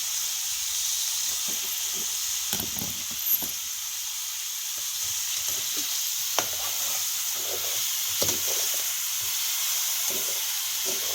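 Chopped ridge gourd sautéing in a hot pan, giving a steady bright sizzle and hiss throughout with occasional scrapes and clinks from stirring.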